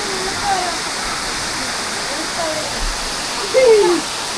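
Areeckal waterfall near Piravom in Kochi, a steady rushing roar of falling water heard close and continuous, with a few faint voices and calls rising briefly above it.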